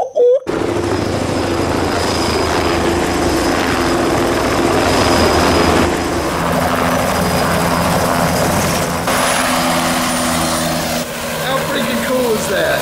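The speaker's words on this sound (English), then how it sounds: "waiting on the helicopter ride to work" A loud helicopter close by, steady rotor thrum and engine roar throughout, with some wind noise and voices in the background.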